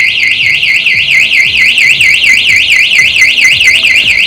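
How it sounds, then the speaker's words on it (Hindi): A bicycle anti-theft alarm, set off by moving the bike, blares a loud, steady warbling electronic siren that cycles rapidly up and down in pitch without a break. "तो अगर ये एक बार मूव होती है तो ये अलार्म बजता है।"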